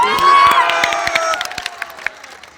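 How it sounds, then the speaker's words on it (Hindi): A crowd at a Baniyapur, Saran rally cheers and claps for Pawan Singh, a loud burst of shouting that tapers into scattered, fading claps. "उसके लिए ताली बजा दो पवन सिंह को"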